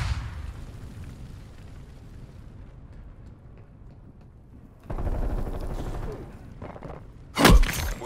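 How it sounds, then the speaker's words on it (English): An incendiary grenade in a shooter game lands with a dull rumble, then a burst of fiery crackling flares up and ends in a sharp, loud blast near the end. "Throwing incendiary."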